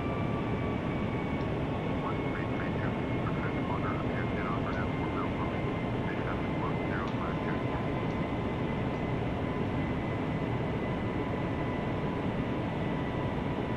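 Airliner engines roaring steadily during takeoff on a London City to Innsbruck flight, a broad continuous rumble with a faint whining tone and brief chirping sounds above it, heard from inside the aircraft.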